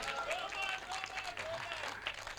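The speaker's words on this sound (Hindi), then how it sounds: "ताली बजा दो एक बार" Audience applause at a live comedy show of humorous songs, a steady wash of clapping with crowd noise and some voices throughout, fairly close and continuous.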